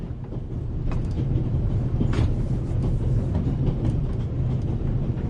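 A train rolls steadily along the rails with a dense, continuous low rumble and faint clatter from the wheels. The sound is loud and close, as if heard from inside a carriage, with no talking.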